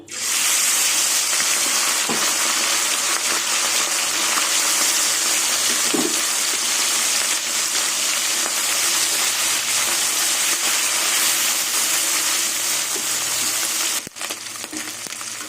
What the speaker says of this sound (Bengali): এবার মাছগুলো তেলে দিয়ে দেবো